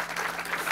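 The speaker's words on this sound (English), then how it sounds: "please give a round of applause to Genevieve" Brief burst of audience applause for a speaker at an education conference, a dense, steady patter of many hands clapping at moderate volume.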